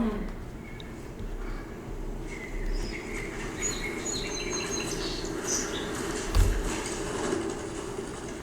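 Small birds chirp and tweet faintly in scattered, high calls over a steady outdoor background rumble, with no clear talking.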